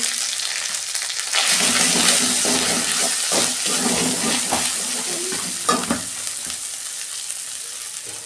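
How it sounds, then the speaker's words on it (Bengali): Spices frying for a vegetarian cabbage curry are stirred in a hot pan, a loud steady sizzle with repeated scraping strokes of the spoon running throughout, close up. "আমি আরেকটু নাড়াচাড়া করে নেব"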